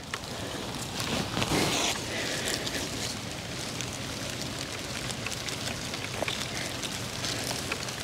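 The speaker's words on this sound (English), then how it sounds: "Here comes the rain." Steady rainfall patters densely on surfaces, a constant hiss with scattered sharper drops, heard alone at moderate volume.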